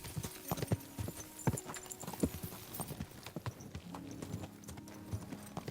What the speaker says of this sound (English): Maybe I take my nice horse over here.